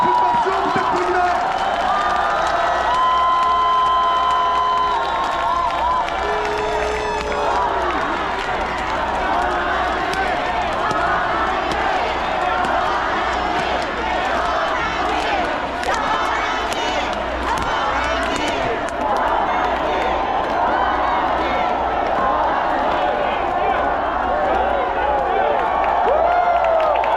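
A large outdoor political rally crowd in a park in front of the National Assembly in Yeouido, Seoul, cheering, shouting and applauding continuously and loudly, a dense roar of many voices with a PA voice over it.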